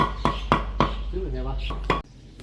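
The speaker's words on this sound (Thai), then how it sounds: "นี่คือขั้นตอนสับครับ สับแล้วก็จะเป็นรวนครับ สับให้ละเอียด" Sharp chopping blows of a cleaver mincing duck meat for larb strike a board at a steady pace, five hits with a short pause while a voice speaks in between.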